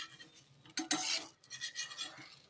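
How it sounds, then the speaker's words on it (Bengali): A veg paratha flipped in a pan with a spatula: a scraping clatter of metal on the pan, then soft sizzling and rubbing strokes, close and moderately loud, with no voices. "সাবধানে উল্টে আরেকটা পাশও ভেজে নিচ্ছি 3 মিনিটের মতো।"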